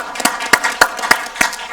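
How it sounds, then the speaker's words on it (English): Audience applause for Dr. McLean at a 2019 summer graduation ceremony, a sparse, uneven clapping with about six distinct loud claps spaced through a short burst, no talking over it. "I'm going to give him a round of applause for the work he's doing with our team."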